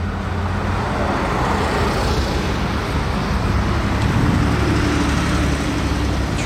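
Several Porsche sports cars, including a GT3, roll along a busy Paris street, a steady wash of engine and tyre noise amid dense traffic, close and continuous with no voices.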